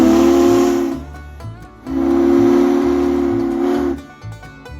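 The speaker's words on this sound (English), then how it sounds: "got to pull the whistle of the Big Boy" Union Pacific Big Boy 4014 steam locomotive whistle blows loud and close in two long chime blasts with a brief gap, accompanied by steady hiss and a rhythmic mechanical chugging underneath.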